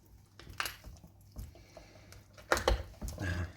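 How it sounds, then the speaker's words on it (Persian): A whole chicken leg is pulled away from the body with a knife, giving a few faint, sharp cracks and wet squishes of bone and joint, with the loudest snap near the end, close up and quiet with no talking. "بعد این صدای استخونه که اومد"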